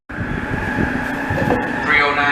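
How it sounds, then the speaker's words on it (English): An AirTrain JFK train pulls into Jamaica station in Queens, New York, its steady rumble and rail hum continuous throughout, with a brighter metallic screech rising near the end and a platform announcement voice over it. "309 train to Kew Gardens and Penn Station now arriving track 2"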